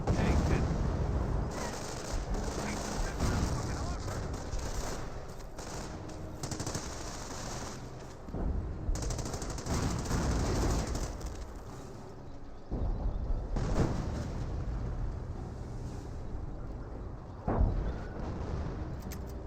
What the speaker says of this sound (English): More artillery barrages there.